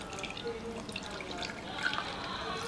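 Milk trickles and drips into a grinder jar holding a few apple pieces, a faint, uneven liquid pour with light splashing and soft background noise.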